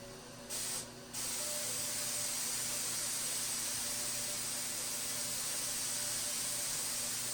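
An aerosol can sprays lacquer onto a piano finish in a long, steady, close hiss after two brief opening bursts, with no voices.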